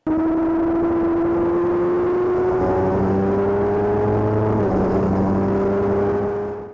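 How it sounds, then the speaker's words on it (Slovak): A 2020 Honda CBR1000RR-R Fireblade SP litre superbike at full throttle on a race track, its high-revving engine screaming in a steady rising pitch that dips briefly near the end, loud and close with no voices. "ten motor na liter má naozaj neskutočne vysoké otačky"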